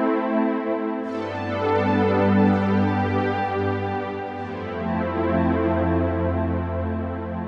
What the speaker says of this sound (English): that's the basic sampled sound.